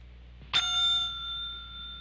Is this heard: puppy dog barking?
no